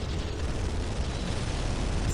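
An assault cannon fires in a Warhammer 40,000 video game, a continuous dense roar of blasts and rumbling booms that stays loud and unbroken throughout.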